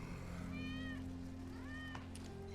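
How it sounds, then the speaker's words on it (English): A cat meows twice in the Final Fantasy VII Remake video game, two short rising-and-falling cries set over a constant low game ambience and rumble, fairly quiet in the mix. "That's Wedge's cat."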